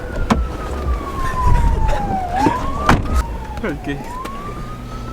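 An ambulance siren wails past on a city street in New York, its swooping tone rising and falling over traffic noise, fairly close, with people talking briefly nearby.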